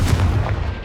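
A booming magical blast from a Confringo spell in Hogwarts Legacy, one heavy low thump with a crackling burst that fades quickly, loud and close.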